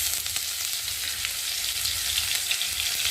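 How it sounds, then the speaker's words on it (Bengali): Chopped ginger fries in hot oil with cumin seeds, bay leaf and dried red chilli in a home kitchen pan, giving a close, steady, crackling sizzle that stays even throughout with no talk. "আদাটা একটু ভালো করে তেলের মধ্যে ভেজে নিয়েছি"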